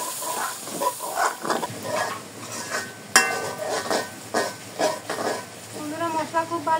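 Spice paste for a country chicken and potato curry sizzles and hisses in a pan while being stirred, with scraping and clinks of utensils and a voice speaking now and then.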